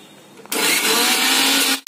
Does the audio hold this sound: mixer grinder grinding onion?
yes